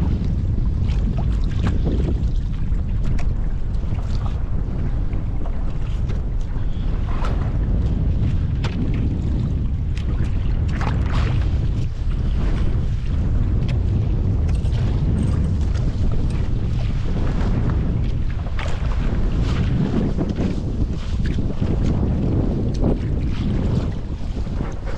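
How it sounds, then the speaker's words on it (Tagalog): Strong wind buffets a small boat out at sea, a steady roaring rush with gusty microphone rumble and the wash of waves against the hull, continuous and loud throughout with no talking. "Mahangin."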